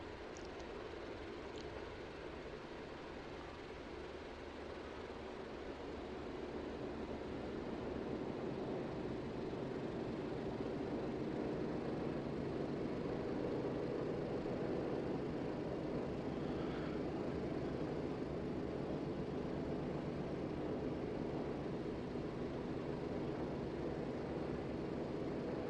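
A flying boat aircraft taxis in Microsoft Flight Simulator 2024, its engines giving a steady, loud, continuous drone that builds slightly after the first few seconds and then holds an even level.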